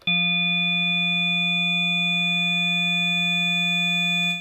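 Sustained synth pad from an Elektron Digitone, one steady tone with a long attack, holding evenly for several seconds before cutting off, with no voices.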